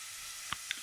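Chopped onion sizzles in hot oil in a pan over a gas flame, giving a steady bright hiss with a couple of brief pops and crackles, close and continuous with no talk.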